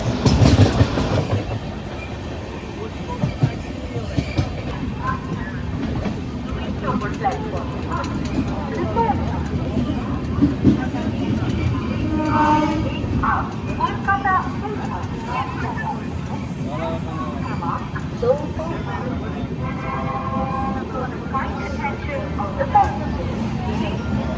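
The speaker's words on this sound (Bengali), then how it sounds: "আমাদের ট্রেন প্রবেশ করছে রামপুরহাট জংশন রেলওয়ে স্টেশনে।" The Kaziranga Express passenger train rolls into Rampurhat Junction station, with steady rumbling, clickety-clack of wheels over rail joints and squealing brakes heard from onboard for a sustained stretch, with voices in the background.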